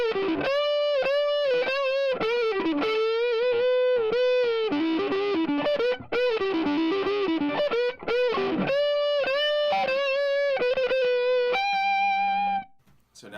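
An electric guitar with a Godwood neck pickup plays a sustained lead line through a dry 1953 Gibson GA-40 tube amp, with singing held notes and quick runs, no talk, and a final note cut off.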